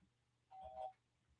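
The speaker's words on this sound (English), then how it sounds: "It's a doorbell." A short, faint electronic chime rings once, soft tones over a quiet background hum, with no voices.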